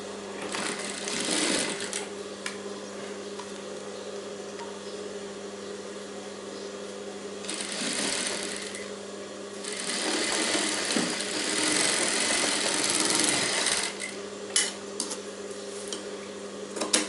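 A sewing machine runs a narrow edge stitch along blouse fabric for a princess-cut blouse, a close continuous whirring hum with a few louder surges and faint clinks near the end, no talking.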